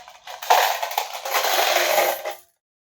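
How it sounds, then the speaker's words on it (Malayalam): Euro coins tipped out of a savings box for counting, making a close, continuous metallic jingling rattle that lasts about two seconds and then stops, with no talking. "അങ്ങനെ മൊത്തം കോയിൻസും ഞാൻ എണ്ണി തീർത്തു"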